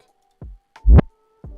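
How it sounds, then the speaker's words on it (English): Three booming low drum sounds with swelling, backward-sounding envelopes, the middle one loudest, separated by short gaps. "And I also reversed my kick."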